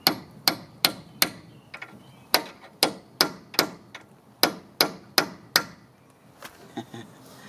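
A hammer strikes a chisel against a rusted rear strut bolt on a 2004 Mitsubishi Endeavor, about fourteen sharp metallic blows in uneven bursts, close and loud with ringing decay, then a few softer taps.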